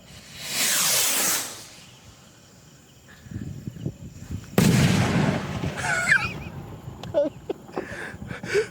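A King Kong firecracker packed with 250 grams of powder is test fired outdoors, a hissing fuse burst followed by a sharp loud report and crackling debris, with faint voices in the background.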